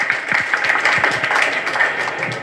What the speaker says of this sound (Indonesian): Sekali lagi boleh minta tepuk tangan dari teman-teman